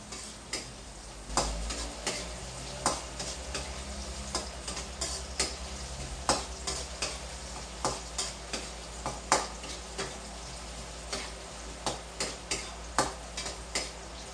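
Onion being sautéed in a pan for igado until translucent, a quiet background sizzle broken by regular spoon taps and scrapes against the pan, close and steady.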